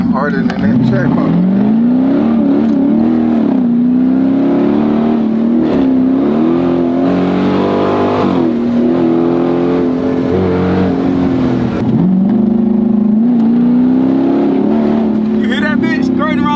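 A Chrysler 300 Scat Pack V8 engine revs and accelerates around a corner, a loud, steady rumbling drone rising and dipping in pitch, heard from close by with people talking over it.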